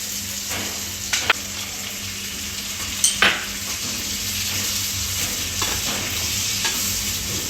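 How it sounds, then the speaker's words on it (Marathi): Vegetables and homemade garam masala sautéing in hot oil with steady sizzling, broken by a few sharp scrapes and clatters of a spoon stirring the pan, close and continuous throughout. "परतून घेऊ छान तेलात"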